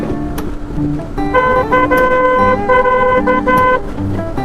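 A bus-style horn fitted to a motorcycle on a night highway honks in a quick series of loud, close, blaring toots, with engine noise underneath.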